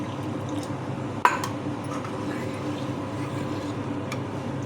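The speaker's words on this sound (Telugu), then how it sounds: "నేను ఇంకా కొంచెం వాటర్ పోస్తున్నాను." Water is poured into cooked dal for a healthy pappu charu, a soft, steady liquid wash running through the clip with one sharp splash or clink near the start, close and fairly quiet.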